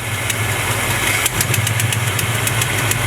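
A 1970 Chevrolet C20 truck engine idles steadily at about 830 RPM, a close, even low rumble with a faint ticking rhythm running through it and no voices over it.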